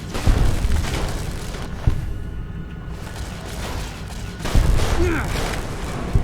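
Gunfire aimed at robots in Fallout: New Vegas, with loud booming shots and heavy mechanical clanks that come in bursts over a dense, rumbling game soundscape.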